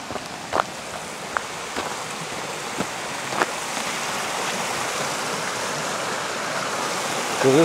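Swollen river rushing beneath a bridge in Plymouth, Vermont after Hurricane Irene flooding, a continuous broad roar of flowing water with a few faint knocks and footsteps early on.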